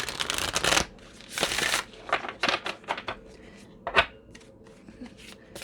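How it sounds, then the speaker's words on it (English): Oracle cards from a Starseed Oracle deck are handled, shuffled and drawn, giving bursts of riffling and sliding card noise separated by short pauses, with sharp flicks and taps close by and no talking. "with the next deck, I'm just going to pull a couple of cards to help you along your journey"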